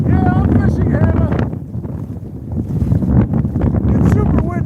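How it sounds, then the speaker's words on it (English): Strong gusting wind batters the microphone beside an icy lake during a fishing outing, a loud close rumbling buffet that dips briefly and then surges again, while a person talks through it. "It's super windy."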